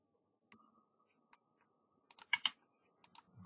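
Light typing on a computer keyboard in a quiet room, a few scattered soft clicks followed by a brief cluster of sharper keystrokes, faint and close.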